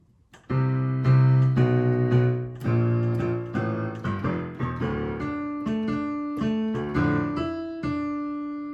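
Piano playing both hands together in a tune: chords and a moving bass line in a steady, bouncy rhythm, clear and close, with no voices.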